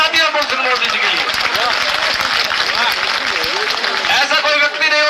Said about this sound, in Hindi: तालियां साथियों सुनील मोदी जी के लिए